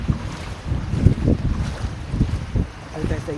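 A scooter pushes through a flooded road in heavy Dubai rain, with churning water sloshing and splashing in irregular surges under steady wind buffeting the microphone.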